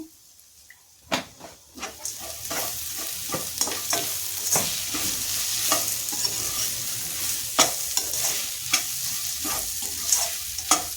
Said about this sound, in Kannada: ಕಾಲು ಸ್ಪೂನ್ ಅರಿಶಿನ ಹಾಗೆ ರುಚಿಗೆ ತಕ್ಕಷ್ಟು ಉಪ್ಪನ್ನು ಸೇರಿಸ್ಕೊಂಡು ಫ್ರೈ ಮಾಡ್ಕೊತಾ ಇದ್ದೀನಿ